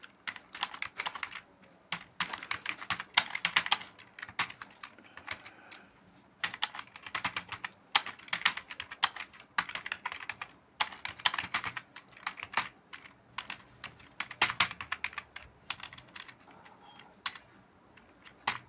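Rapid taps on a mobile phone's touchscreen keyboard while typing sentences, heard as a steady stream of close, crisp clicks in uneven bursts with brief pauses and no talk.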